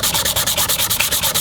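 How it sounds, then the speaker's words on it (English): A metal garden trowel is sanded by hand to remove marks, giving a quick run of rhythmic back-and-forth rasping strokes, close and loud. "Go ahead and sand off any marks that you might have made."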